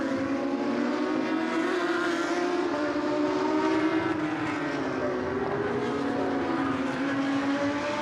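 A GP3 race car laps the Nürburgring during 2013 qualifying, its engine a continuous loud, high-pitched howl that rises and falls in pitch through corners and down the straight.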